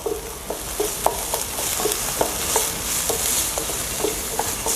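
Green peas stirred and cooking over very high heat in a pan with about a tablespoon of oil, a steady sizzle broken by regular scraping stir strokes, close and moderately loud with no voices.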